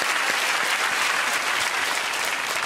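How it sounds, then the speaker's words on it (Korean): A church congregation at an autumn dawn revival service applauds together, a dense, loud, continuous round of clapping that holds steady throughout. "세 번째로 한 번 더 박수로 축복해 주시기 바랍니다."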